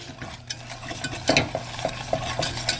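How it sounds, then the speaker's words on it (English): A whisk stirs melting caramel in a pot on medium-high heat, giving quick scraping, tapping strokes against the metal over a soft sizzle, close and steady. "you just stir constantly with a whisk until nice and smooth"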